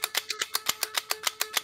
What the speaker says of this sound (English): That's the sound of clicking an NZAP.